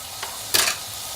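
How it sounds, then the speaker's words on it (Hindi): Mutton liver fries with ginger, garlic and turmeric in a pan, a soft background sizzle broken by two quick stirring scrapes, the second louder, with no talking. "इसको अच्छे से इस तरह से भूनिए"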